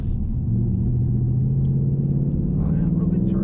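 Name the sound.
2019 Ford Mustang GT S550 engine while driving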